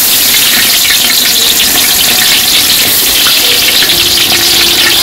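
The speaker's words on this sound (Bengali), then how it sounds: "তেল গরম হয়ে গেছে, তেজপাতা দিয়ে দেই, এলাচ আর দারচিনি, পেঁয়াজ গুলা দিয়ে দেই।" Bay leaf, cardamom, cinnamon and onions fry in hot oil for a village-style chicken biryani, a loud, close, continuous roaring sizzle with no talking.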